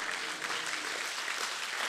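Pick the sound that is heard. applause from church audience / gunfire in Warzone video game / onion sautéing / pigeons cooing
applause from church audience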